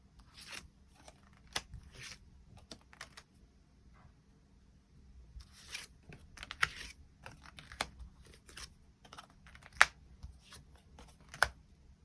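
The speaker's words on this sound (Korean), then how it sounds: "추가 카드 뽑아보도록 하겠습니다" Tarot cards are shuffled and drawn in short soft bursts of riffling and flicking separated by pauses, quiet and close with a few sharper snaps, no voices.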